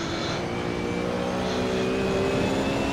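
Race car engines roar steadily in a VR online racing game as a Corvette and Ferrari battle side by side, a continuous loud drone with shifting tonal whine throughout.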